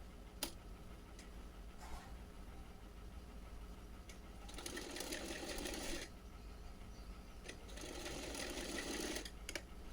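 Sewing machine stitching along the folded edges of a small deity dress, a steady mechanical whir in two bursts around the middle and end, with scattered ticks and clicks between them and no talking.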